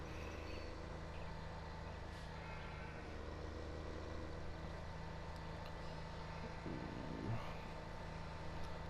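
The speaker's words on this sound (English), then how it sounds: "Doing some off-roading in the tractor here." A tractor engine in a farming video game while off-roading, a steady low drone that holds at a moderate level with a few faint knocks and bumps.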